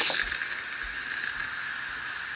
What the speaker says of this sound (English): We'll switch it over to release whatever steam's left